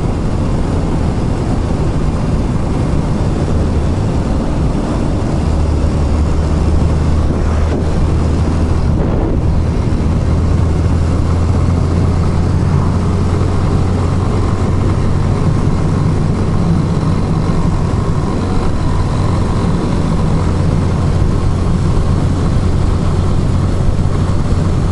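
Yamaha Fazer motorcycle engine riding uphill, a loud continuous engine hum buried under heavy wind rush against the microphone, steady for the whole stretch with no speech.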